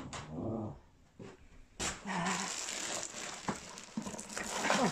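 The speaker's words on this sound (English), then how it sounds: "that's my dog barking" A dog barks and growls indoors during a Hoover H-Free 500 Pets vacuum cleaner review, with several sharp barks and rough growling bursts at moderate distance, loud against a quiet room.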